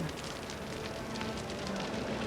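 Fire burning down a wooden shack in The Witcher 3 makes a steady crackling roar with scattered pops, fairly quiet and continuous throughout.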